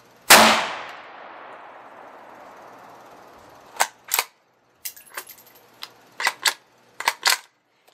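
A single loud, close firearm gunshot, a gun that throws a big muzzle fireball, cracks and then rings out in a long fading decay. Several sharp mechanical clicks follow in quick bursts.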